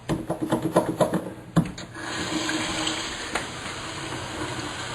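Toilet with a loose handle: a few rattling, knocking clunks of the lever, then a steady rushing flush of water that continues to the end, close and fairly loud.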